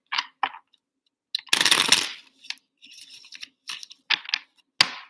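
A deck of tarot-style cards being shuffled, with crisp riffling bursts and light flicking taps in scattered clusters, one longer riffle standing out, close and with no talk.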